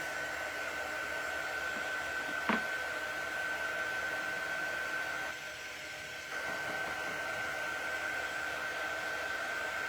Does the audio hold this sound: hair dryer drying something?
yes